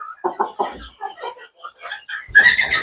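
Andijan black chickens about 94 days old clucking close to the microphone in a series of short rhythmic calls, ending in a louder, harsher squawk.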